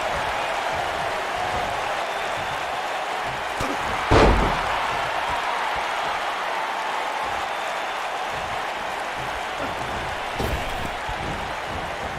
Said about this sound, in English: And Byron, I can barely hear myself think over this crowd here in Pontiac, Michigan.